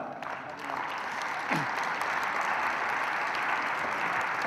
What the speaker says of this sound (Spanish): Recibamos con un fuerte aplauso al señor Eduardo Sojo Garza Aldape.